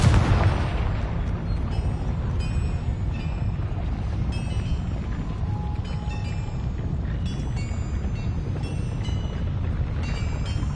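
A Confringo fire spell in Hogwarts Legacy lands with a heavy booming blast, then leaves a long, loud, rumbling roar and crackle that fades only slightly over about ten seconds, with faint chiming game effects scattered on top.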